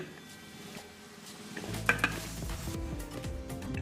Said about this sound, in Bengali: দেখো মোটামুটি দু মিনিট মতো আমি সুন্দর করে মেখে নিলাম